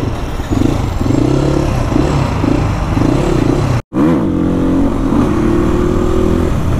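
A dirt bike engine on a rough trail ride revs loudly and close, the pitch rising and falling in wavering surges, broken by one very brief cut in the middle.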